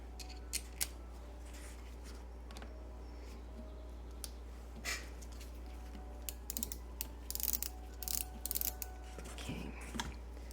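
A screwdriver works a screw out of the follower arm on an antique sewing machine, with small metallic clicks, scrapes and brief ticking bursts scattered over a quiet background.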